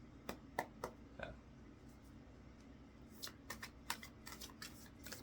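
A deck of oracle cards being shuffled, with scattered soft flicks and taps early on and then a denser run of quick card riffles, close and quiet with no talk.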